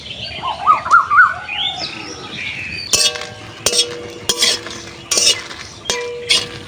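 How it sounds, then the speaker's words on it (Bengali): Dried red chillies are half-fried in a pan while being stirred, heard as sharp metallic clinks and scrapes of a utensil against the pan in separate strokes, after a few birds chirp in the background. "পাঁচ ছটা শুকনো লঙ্কা একটু আধা ভাজা করে নেবো"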